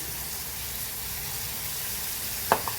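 Fenugreek powder added to a hot pan of simmering bilimbi pickle, a soft steady sizzle throughout, then a sharp clink of a utensil near the end, no talking.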